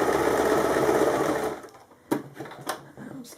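A sewing machine runs a steady fast stitch along a seam on a kimono wrap top, then stops, leaving a few soft handling clicks and bumps nearby.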